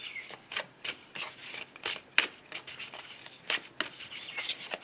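Lenormand cards shuffled by hand before a reading, a quick irregular series of soft riffling and rubbing bursts, close and fairly quiet with no voices.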